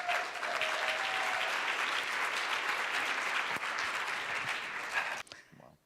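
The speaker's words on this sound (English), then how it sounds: "please give, all the way from Paris, Raluca a big round of applause." Audience applause at a business talk event, sustained dense clapping at moderate level that tapers off and stops near the end.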